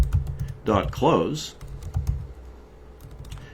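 Computer keyboard typing as code is entered, soft clicks running beneath a man's speech, close and moderately quiet.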